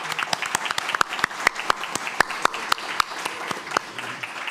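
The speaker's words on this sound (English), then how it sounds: "So let's give them a round of applause." Audience at a university career panel gives a round of applause for the panelists, steady close clapping with sharp individual claps, no talk over it.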